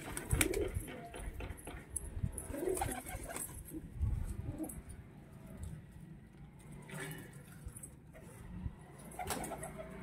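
Pigeons coo softly in repeated low calls while feeding on broken roti, mixed with faint background bustle and scattered knocks.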